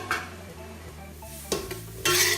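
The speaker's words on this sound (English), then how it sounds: "Induction cooktop stir fry." A stir fry cooks in a wok on an induction cooktop, with close metallic scraping and clanks of a utensil against the pan, a louder clatter near the end, over a low hum.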